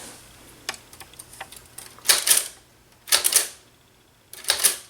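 Keys clack on a We R Memory Keepers Typecast typewriter: a run of light, scattered taps, then three louder clustered bursts of strikes, close and clear.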